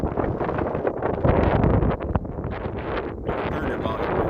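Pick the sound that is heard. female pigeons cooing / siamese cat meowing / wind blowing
wind blowing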